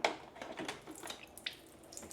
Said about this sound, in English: you're going to drain the water that's in the bottom here by pulling the plug